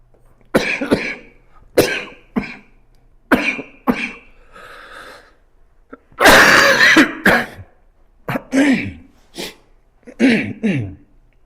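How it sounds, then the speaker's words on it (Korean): Several sharp, loud coughs and throat clears in bursts from a teacher during a math lesson, close to the listener, with one longer harsh coughing fit midway. "미안합니다. 기침 때문에."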